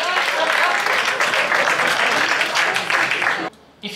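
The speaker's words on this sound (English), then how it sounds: "round of applause for the man over here" Dense, steady applause from an audience at a business speaker's talk in South Africa fills most of the clip, then drops off sharply near the end before a brief swell.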